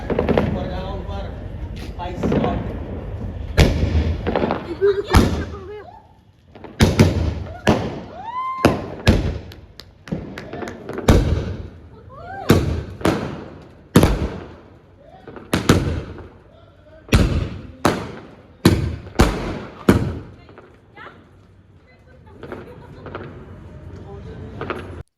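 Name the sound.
firecrackers being set off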